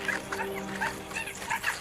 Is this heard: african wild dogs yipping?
yes